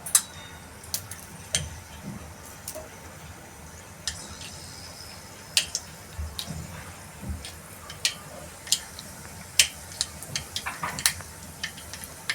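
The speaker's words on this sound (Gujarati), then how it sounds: "વઘારમાં આપણે રાઈ નાખીશું," Mustard seeds crackle in hot oil, tempering for gatta sabzi: sparse, sharp little pops scattered irregularly over a low background, fairly quiet and close, with no talking.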